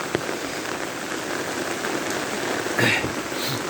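Steady light rain patters on a surface, a soft continuous hiss with a few brief louder splashes near the end.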